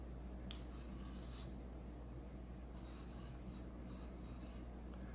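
Stylus tapping and writing on an LG Stylo 4 smartphone screen, producing faint, short electronic feedback chirps in a few brief bursts over a quiet background.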